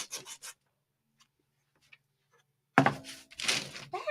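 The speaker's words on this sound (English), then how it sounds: "So I'm sanding my letters." Sandpaper rasps over painted letters in short scratchy strokes: a quick burst at the start, near silence, then a longer run of close rubbing toward the end.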